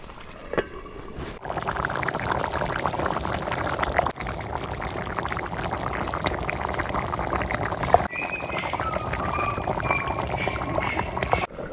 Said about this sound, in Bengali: ঝোলে পানি দিলাম।